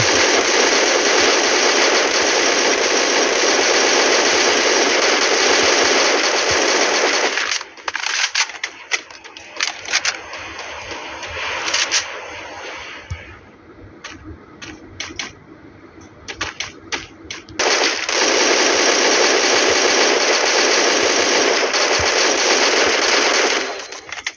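Rapid gunfire from the Free Fire battle royale game, bursts of dense automatic shots at the start and end with sparser crackling shots between, loud and close.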